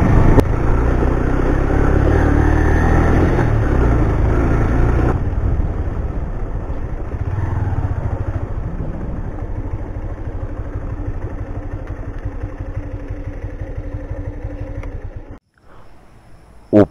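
A motorcycle ridden up a hill road on Dalma Hill in Jharkhand, its engine droning steadily and loudly with wind rush, easing to a quieter run partway through before briefly cutting near the end.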